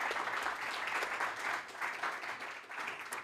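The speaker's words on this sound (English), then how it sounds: "a round of applause for you" An audience at a masterclass claps steadily in a continuous, moderately loud wash of applause that swells and dips slightly.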